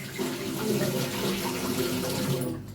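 Cold tap water runs steadily into a sink as hands are cooled under it, a close, continuous splashing rush that stops abruptly at the end.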